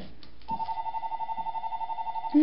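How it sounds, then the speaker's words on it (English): A telephone rings with an electronic warbling tone, repeating in a fast pulsing rhythm for about two seconds before a brief louder sound cuts in at the end. It sits close and clear over a quiet room. "And my phone is ringing, which we're going to ignore at the moment."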